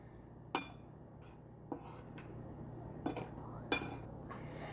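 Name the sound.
spoon mixing dry ingredients in a bowl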